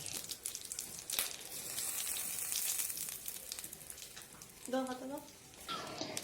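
Prawns crackle and sizzle in hot oil, a soft hiss with scattered pops, fairly quiet, and a brief voice breaks in near the end.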